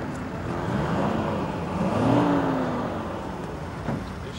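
A Mercedes car engine revs up and settles, a steady moderate drone swelling to a peak midway and easing off, with no voices.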